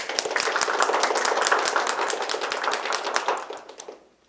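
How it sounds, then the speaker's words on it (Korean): An audience at a finance forum in Seoul bursts into applause, with many sharp claps in a dense, steady patter that holds strong for about four seconds before tapering off into quiet. "큰 박수 부탁드립니다."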